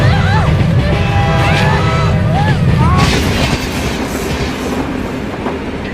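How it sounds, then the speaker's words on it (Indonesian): A train rushing past in a film scene, loud rumbling and rattling wheels with squealing metal tones on top, sustained and close throughout. "Setelah kereta lewat"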